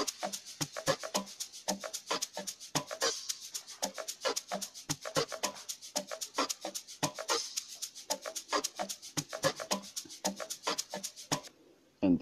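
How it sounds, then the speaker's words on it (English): A shaker loop from FL Studio Mobile for an amapiano beat rattles in a fast, steady rhythm of dry, crisp hissing strokes, evenly repeating for several seconds before cutting off near the end. "shaker loop, which sounds like this"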